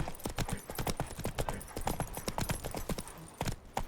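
Roach, the horse in The Witcher 3, gallops at a fast, even pace, each hoof strike sharp and close for a few seconds.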